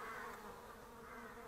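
Honey bees work at their hive, cleaning frames and carrying honey, making a steady, soft, continuous buzzing hum with no voices.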